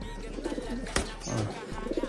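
A pigeon coos softly inside a loft, giving a brief, low murmuring call over quiet background noise.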